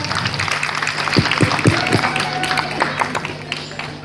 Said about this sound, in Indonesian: Tepuk tangannya dulu untuk kelompok C.